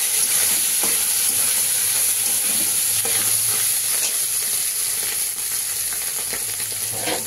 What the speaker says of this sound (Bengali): আমি তেলটা গরম হলে মাছটা ভেজে নিই।